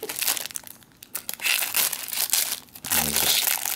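Plastic MRE packaging is cut off, with close crinkling, crackling and tearing rustles in uneven bursts and a brief pause partway through.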